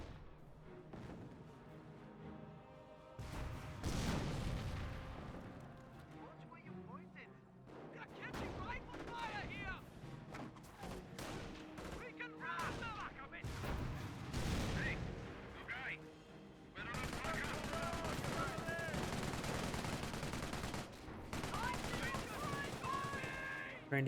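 Dense gunfire and artillery from a Company of Heroes 1 battle between Wehrmacht and British forces, with machine-gun bursts, rifle shots and booming shell impacts layered continuously, growing louder and denser toward the end, with occasional talk over it.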